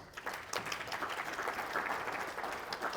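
A brief stretch of steady applause from a small audience, clapping evenly throughout.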